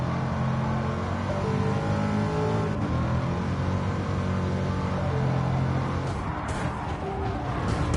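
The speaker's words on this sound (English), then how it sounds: "Corvette C7." Corvette C7 racing in Gran Turismo, its engine droning loud and steady with rising and falling revs, tire squeal and skidding toward the end.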